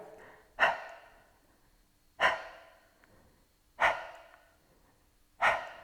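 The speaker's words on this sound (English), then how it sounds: "So I exhale, a forced exhalation, and I lift up through my pelvic floor." A person does a forced percussive exhalation breathing exercise during a seated Pilates chair workout, four sharp, close, breathy puffs evenly spaced about every one and a half seconds.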